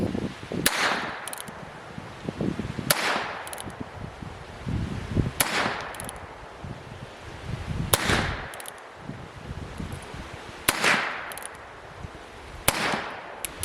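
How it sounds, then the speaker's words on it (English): A Heritage Rough Rider revolver fires at targets on a log and stump outdoors, five sharp, loud shots spaced about two and a half seconds apart, each followed by a short echo. "tried shooting that one on the log, one on the stump actually, and I missed it heavily"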